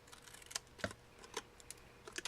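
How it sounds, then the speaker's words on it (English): Scissors snipping paper banner ends for a handmade birthday card, a few sharp, close, quiet cuts spaced irregularly in a still room. "I cut it in the center, and then cut from each corner to the center."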